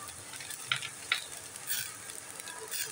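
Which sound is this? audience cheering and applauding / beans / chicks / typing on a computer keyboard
beans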